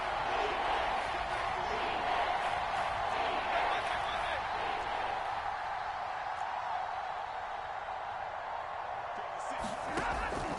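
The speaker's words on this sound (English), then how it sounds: "The crowd getting into it as we come up on a big 3rd down" A packed stadium crowd at an NFL football game between Philadelphia and Seattle roars with sustained cheering and noise building before a big third down, a dense wash of voices that eases slightly toward the end.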